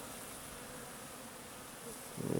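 Honeybees flying out of a hive on a January cleansing flight hum in a soft, steady buzz that swells into a louder, closer burst at the very end.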